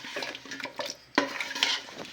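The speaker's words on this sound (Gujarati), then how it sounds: "ગોળને આ રીતે હલાવતા જવાનું છે।" Jaggery is stirred in a pan for Gundar pak, giving a few scraping, clinking strokes of a spoon against the metal with faint sizzling between them.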